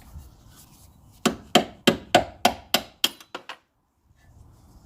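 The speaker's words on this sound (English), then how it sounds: "go ahead and pop these clips out of here. I'm going to use a flathead with a hammer." A hammer taps a flathead screwdriver to pop out brake clips on an Infiniti G20 during a big brake kit install: about ten crisp metallic strikes in a quick run that fade to lighter taps, then silence.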